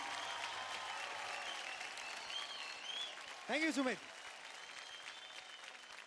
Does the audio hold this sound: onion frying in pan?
no